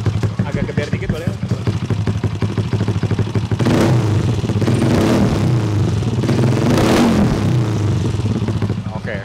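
A modified Yamaha Lexi scooter engine, bored up to 200 cc, revs up loudly in repeated bursts, rising and falling close by, with people talking over the noise.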